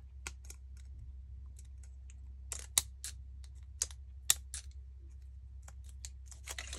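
Scissors snip through paper in a run of sharp, quick clicks, close and faint over a low steady hum.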